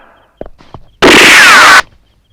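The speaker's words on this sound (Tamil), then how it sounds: "இப்ப எதுக்கு மாமா சுட்டீங்க" A single sustained loud blast of gunfire in a comedy film scene, close and harsh for nearly a second, preceded by a few soft knocks and followed by quiet.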